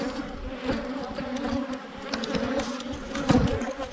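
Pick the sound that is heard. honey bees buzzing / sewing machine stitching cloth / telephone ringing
honey bees buzzing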